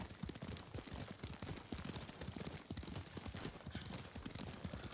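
Continuous galloping horse hoofbeats in the video game Ghost of Tsushima, a fast, steady clip-clop rhythm that holds close and loud for the whole stretch.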